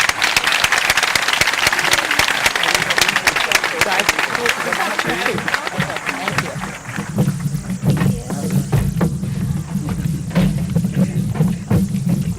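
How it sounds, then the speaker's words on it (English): An audience at a high school graduation applauds the students, dense loud clapping that fills the first half and then thins into scattered claps over a low murmur, with voices under it. "Let's give all these students a round of applause."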